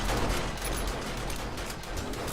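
Junk turrets fire in the survival game 7 Days to Die, producing a dense, continuous burst of rapid gunfire that stays loud and unbroken for a couple of seconds.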